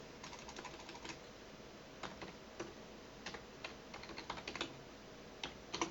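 Quick clicks of fingers typing on a computer keyboard, irregular bursts of keystrokes with short pauses, close and faint in a quiet room.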